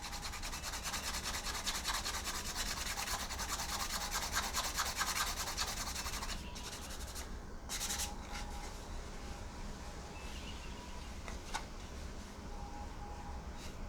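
Sandpaper works over the parts of a plastic AMT Round 2 1:650 scale U.S.S. Enterprise model kit, a dense, continuous close scratching for about six seconds, then quieter with a few brief rubs.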